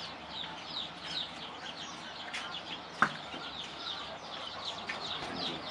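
Chicks at a poultry hatchery give soft, repeated high peeps over a low background hum, with one sharp knock or thump midway.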